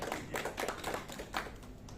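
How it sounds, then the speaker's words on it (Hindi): An audience at a network marketing seminar breaks into brief, hearty applause, a dense patter of many hands clapping together for a couple of seconds. "एक जोरदार ताली जिन्होंने दोनों का"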